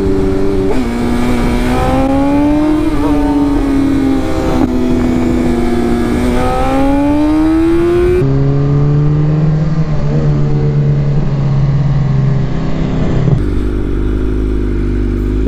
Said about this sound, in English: Extremely fast car.